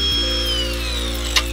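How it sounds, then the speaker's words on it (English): Angle grinder cutting off old rear brake parts on a 9th gen Honda Accord, a steady high-pitched whine that slowly drops in pitch, with a brief sharp clack near the end. "we used the angle grinder to get it off the rest of the way"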